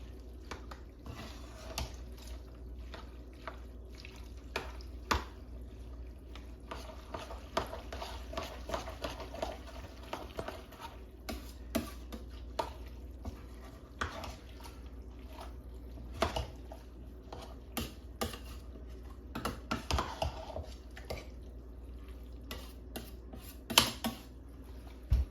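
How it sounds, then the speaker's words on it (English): Ingredients for stovetop macaroni and cheese are stirred together, giving soft, wet squishing and clicking spoon taps in an irregular rhythm, faint and close, with no talking. "we're going to mix those ingredients in"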